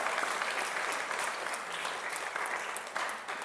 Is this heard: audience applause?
yes